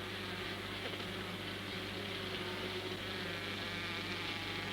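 A continuous low drone of many honeybees fanning their wings at the hive entrance to ventilate it, steady and unbroken with a faint hum underneath.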